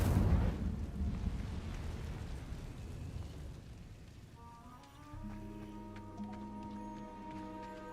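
Incendio fire spell cast in Hogwarts Legacy: a loud fiery whoosh bursts at once, then fades into a crackling, hissing rumble, with tonal game music rising toward the end.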